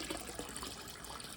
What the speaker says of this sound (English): Fill up our bucket.